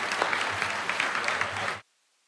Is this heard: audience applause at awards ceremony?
yes